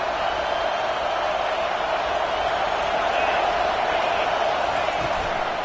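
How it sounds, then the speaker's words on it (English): Steady, dense roar of a large stadium crowd, continuous and fairly loud with no pauses, a broad wash of many voices blending together. "This crowd bringing the energy and noise early."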